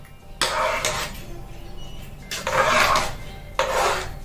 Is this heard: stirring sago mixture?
yes